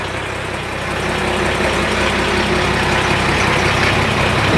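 A Mercedes-Benz 1721 truck's turbocharged diesel engine, fitted with a reworked turbo, revs steadily and loud with a sustained broadband roar, close up and without talk.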